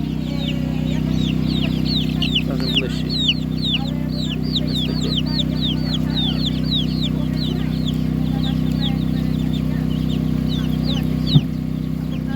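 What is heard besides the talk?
chicks at an animal market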